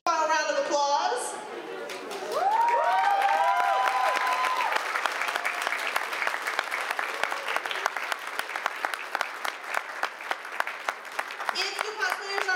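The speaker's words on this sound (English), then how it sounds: "final round of applause" Sustained applause and cheering from a convention crowd for costume contest winners returning to the stage at Colorado Anime Fest, a host's amplified voice over the start before the clapping swells and continues steadily.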